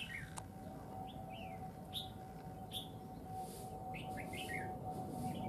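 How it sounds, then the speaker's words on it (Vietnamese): A songbird calls from a tree in short, bright chirping phrases repeated every second or so, fairly close, over a steady low background rumble and a faint constant tone. "Có chim nổ giọng bên trong kia."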